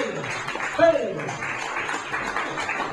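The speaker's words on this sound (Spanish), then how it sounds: "Un aplauso al Señor." A congregation at a Spanish-language church service applauds, soft and diffuse, with a voice and a chuckle heard over the clapping.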